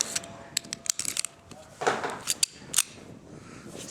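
A .22lr round is chambered in a Brico J-22 pistol with a few sharp metallic clicks and a scraping slide action, close and fairly faint, spread unevenly over several seconds.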